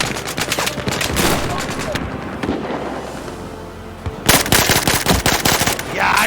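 Machine gun fire in the Battlefield 4 video game: loud rapid automatic bursts in dense rattling volleys, a brief lull, then another heavy burst, with voices talking over the gameplay.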